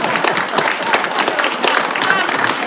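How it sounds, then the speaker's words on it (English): An audience breaking into applause, a dense patter of many hands clapping close and lively for a few seconds, with a voice mixed in. "You can applaud, you know."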